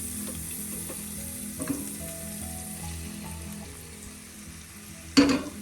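Onions sautéing in oil for a chempalli (big eye snapper) fish curry, a gentle continuous sizzle with faint stirring, ending in a sudden louder clatter and hiss.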